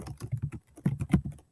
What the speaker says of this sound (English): so I'm going to write my full name